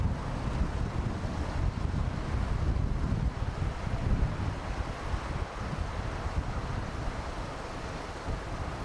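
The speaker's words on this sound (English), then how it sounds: "The wind's definitely getting up again" Gusty night wind buffeting outdoors near an airbase, a continuous low rumbling rush of air that rises and falls in strength, battering the microphone, with no voices.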